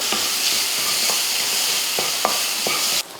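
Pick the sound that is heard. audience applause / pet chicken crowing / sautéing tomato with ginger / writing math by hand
sautéing tomato with ginger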